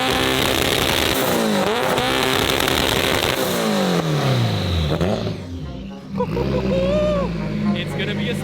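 An Acura Integra engine revs hard and loud up close, with repeated rising pulls and a brief drop near the end, while people talk over the engine noise.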